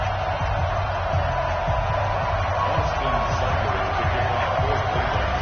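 A steady crowd roar fills an NFL stadium in a PS4 football game before an Eagles–Browns kickoff, a continuous wash of cheering with a low announcer voice beneath.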